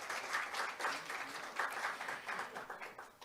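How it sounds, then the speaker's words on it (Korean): Conference attendees give a round of applause at an international labour conference opening ceremony, many hands clapping together in a fairly soft, even wash that rises and falls slightly, heard at a distance. "여러분 다시 한번 박수 부탁드리겠습니다"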